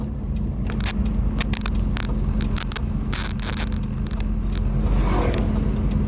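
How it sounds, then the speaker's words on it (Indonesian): Steady stream of cars and motorbikes passing along a busy town road at night in Asahan, North Sumatra, a continuous loud traffic rumble with passing engine whooshes and no one speaking. "Kendaraan bermotor pun baik roda 4 maupun roda 2 masih banyak"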